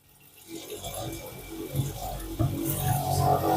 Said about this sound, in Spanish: El watermaker va a empezar a tomar agua del balde.